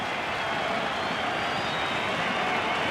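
A rugby league crowd roars and cheers steadily for Manly at a 1988 tour match against Great Britain, a dense, continuous wash of distant stadium noise with no break.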